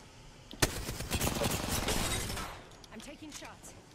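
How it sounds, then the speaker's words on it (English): Gunfire erupts in Apex Legends with a sharp crack, then a dense, loud burst of shots lasting about two seconds before it fades. Player voices and scattered game sounds follow. "I'm taking shots."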